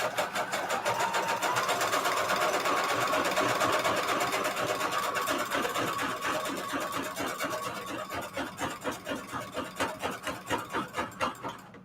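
A sewing machine stitches a zigzag on paper, its rapid mechanical clatter running loud and steady, then slowing into distinct, evenly spaced stitch pulses toward the end.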